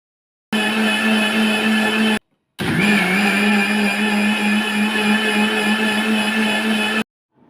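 An electric blender grinds batter for a soft, oil-free steamed tiffin, its loud, steady motor whine running about two seconds, stopping briefly, then roaring again for several more seconds before cutting off.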